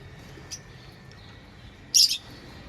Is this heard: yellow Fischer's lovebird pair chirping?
yes